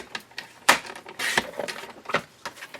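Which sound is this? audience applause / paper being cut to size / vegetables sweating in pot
paper being cut to size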